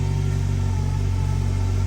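Turbocharged K24 engine idling a few seconds after start-up, a loud, steady, close low rumble with an even pulsing rhythm and no voices over it.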